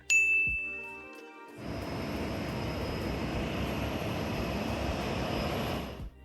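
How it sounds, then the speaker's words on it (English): A China Airlines plane departs Tokyo Narita Airport, heard from an observation deck: a brief chime, then a steady, loud broadband jet roar that holds for about four and a half seconds before cutting off. "here is one of the earlier China Airlines flights, departing Tokyo"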